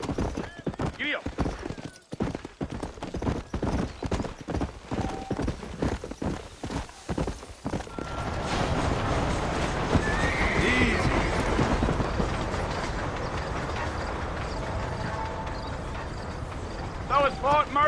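Hooves clip-clop in a rapid rhythmic gallop for a horse in the video game Red Dead Redemption, followed by a steady rushing ride noise with a brief whinny near the end, under a moment of character speech early on.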